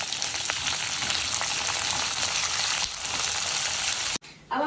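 Onions and potatoes fry for poha in a pan, giving a loud, continuous hiss and crackle with faint stirring, cutting off abruptly near the end.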